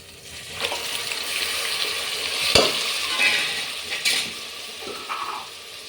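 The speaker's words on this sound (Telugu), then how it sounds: "మగ్గిపోయింది ఇప్పుడు చికెన్ వేసుకుందాం" Chicken drops into a pan on a village-style wood-fired stove and fries with a bright, crackling sizzle. Sharp clinks from the pan and spoon punctuate it, and a stirring burst follows. No one speaks.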